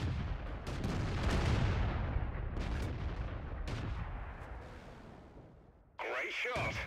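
Artillery fire in the World of Tanks video game: a heavy booming shot with a long rumbling decay that fades out, then an abrupt cut to a different loud game sound near the end.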